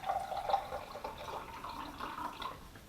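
Grape juice poured from a freshly opened bottle into a glass for a homemade red wine kit makes a faint, quiet trickle and splash that runs steadily for a few seconds with no talking.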